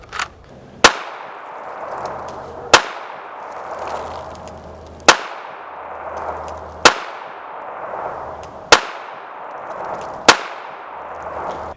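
A Springfield Armory 911 pistol fires Winchester .380 ACP hollow-point rounds, six sharp, loud shots spaced about two seconds apart, each followed by a ringing decay, with no talking.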